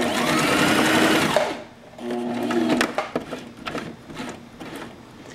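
A sewing machine stitches a jacket collar and facing in a steady fast whir for over a second, then stops, followed by short handling clicks and a brief second run, all close with no talk.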